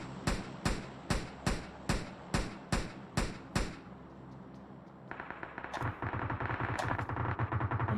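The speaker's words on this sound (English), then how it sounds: "I can hear those gunshots" Gunfire in PUBG Mobile, a steady series of about ten loud, sharp single shots at even intervals, followed by denser rapid bursts and crackling fire that carry on to the end.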